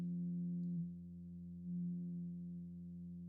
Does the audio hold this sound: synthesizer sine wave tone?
yes